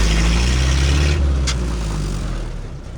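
A 1932 Ford Model B roadster hot rod with a four-cylinder banger engine runs steadily while driving, a loud low rumbling drone that stays close and continuous without a break.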